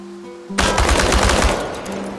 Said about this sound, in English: exercise is about using full auto mode and emptying an entire magazine in one burst